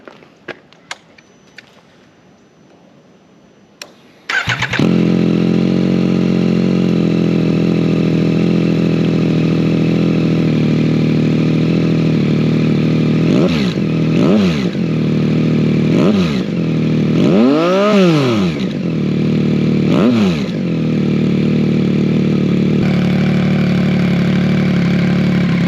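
A Yamaha MT-09 motorcycle fitted with an SC Project S1 exhaust starts up after a few seconds of quiet handling noises, then idles loudly and steadily, with several sharp throttle blips rising and falling over the rumble.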